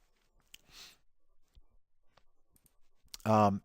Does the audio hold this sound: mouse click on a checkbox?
yes